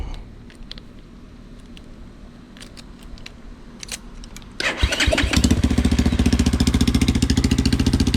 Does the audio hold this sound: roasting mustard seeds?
no